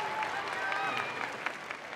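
Audience applause in a K-1 kickboxing arena in Japan after a middleweight bout. The steady, moderately loud clapping fills the hall while a voice talks over it.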